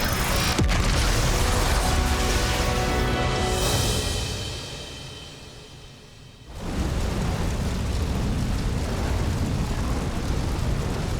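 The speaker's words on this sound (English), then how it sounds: "Now that was an explosion." A huge explosion in a Xenoblade Chronicles 3 cutscene, a sustained broadband roar filling the scene, dipping briefly before a second loud surge rumbles on to the end, with no talk.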